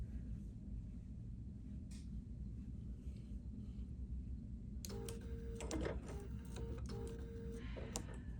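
A sewing machine stitches through quilt layers, a brief run of rapid mechanical ticking that starts partway in over a steady low room hum.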